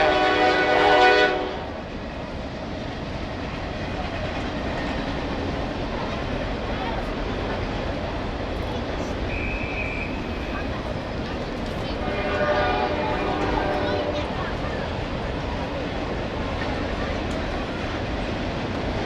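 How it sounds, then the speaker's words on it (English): Train running through Buffalo toward Ohio rumbles steadily and loudly past, its horn blaring at the start and again faintly later, while people talk nearby over the constant rail noise. "And another train is coming from Buffalo going to Ohio."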